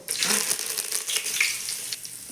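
Curry leaves sizzle and crackle in hot oil in a pan, a bright steady frying hiss with sharp pops rising as they hit the fat, close and loud with no talking.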